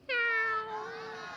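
A human voice imitates a cat with a single drawn-out meow, clear and close, falling slightly in pitch as it fades.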